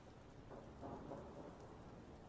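Rain pours steadily while low thunder rolls through the middle, all faint and distant, with no voices.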